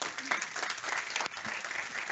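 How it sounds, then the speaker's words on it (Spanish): An audience at an educational institute presentation gives a short round of applause to welcome a speaker, many hands clapping evenly at moderate volume with a brief dip midway. "Un aplauso también para recibir a Juan Pablo."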